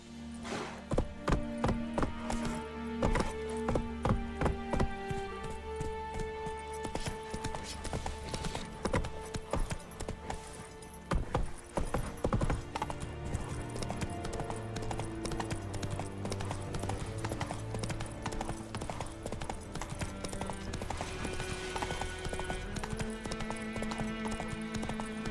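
Roach, a horse in The Witcher 3 around White Orchard, gallops in a steady rapid clip-clop of hooves over layered orchestral game music, loud and continuous throughout.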